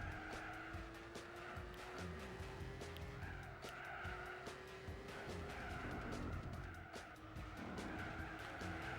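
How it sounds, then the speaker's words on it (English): BMW M5 and BMW M3 race cars in the video game Gran Turismo 4, a steady engine whine with squealing, skidding tires and scattered bumps and knocks as the cars make contact, fairly quiet throughout. "Look at the power of the M5 just pushing the M3 off the road."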